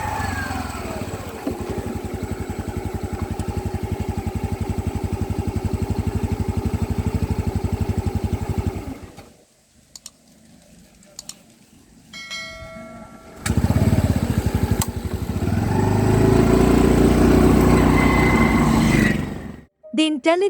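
A TVS Jupiter ZX Disc scooter engine idles with a steady low rumble, then its IntelliGO auto stop cuts it out into near quiet with faint clicks before the engine restarts and runs again.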